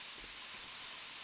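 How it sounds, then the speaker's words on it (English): Spray painter nozzle in the Spray Paint Simulator video game, a continuous loud, broad airy hiss of paint spraying onto a bridge, steady and close without pause. "This spray painter is way better with this nozzle though"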